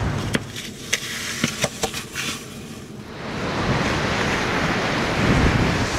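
Surf churns and washes continuously on choppy water off Chile, with wind buffeting the microphone, a few sharp knocks early on before the rushing water swells louder.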